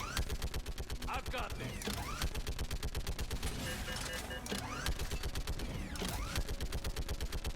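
A big gun in a video game fires a dense, relentless automatic stream of loud, close shots for the whole stretch, while someone speaks briefly over it.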